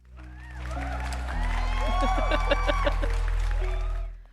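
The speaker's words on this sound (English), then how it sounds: "Do I have an applause button on this?" A canned applause sound effect fires from a button on a podcast soundboard: a steady wash of crowd clapping and cheering over a sustained low hum, swelling and holding for about three seconds before fading.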